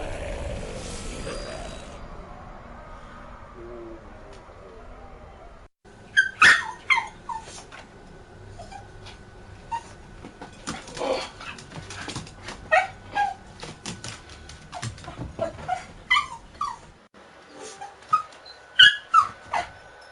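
A dog whimpers and yips in a run of short, sharp, high cries, some close and loud, scattered irregularly with faint rustling and mechanical noise underneath.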